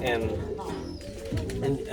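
Pigeons kept by a New York fancier coo in soft, repeated low murmurs close by, several rounds overlapping within a couple of seconds.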